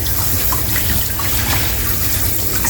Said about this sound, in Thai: เอามาล้างให้สะอาด